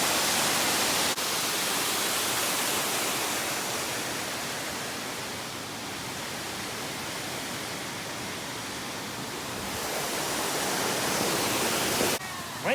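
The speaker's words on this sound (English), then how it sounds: "This looks a lot like the waterfall from Milo and Otis." Constant broadband roar of a waterfall on a nature walk, heard close and steady, swelling slightly louder at the start and end with a softer stretch in the middle.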